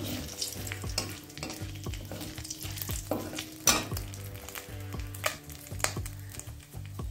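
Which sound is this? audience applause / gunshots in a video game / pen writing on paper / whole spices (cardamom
whole spices (cardamom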